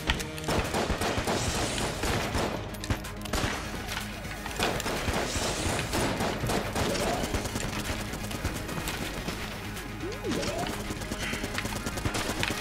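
Rapid, dense gunfire in the bullet-hell game Enter the Gungeon, a continuous barrage of sharp shots and impacts at fairly loud level with rhythmic bursts throughout, and faint voices of players in the background.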